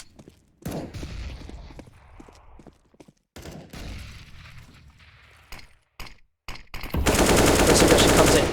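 Rapid gunfire rattles through a Counter-Strike match on the Cache map, with bursts of shots between pauses and a dense, loud volley of fire near the end.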